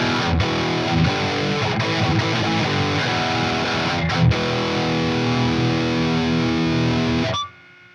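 Distorted electric guitar through an EVH 5150III Hypersonic amp with gain around ten o'clock, sustained crunchy chords ringing loud and close, then stopping sharply just before the end, leaving faint residual noise.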